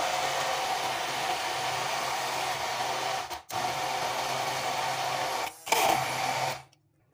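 An electric blender runs loud and steady, blending frozen strawberries for pink lemonade. It cuts out briefly twice, then stops at the end, with no talk.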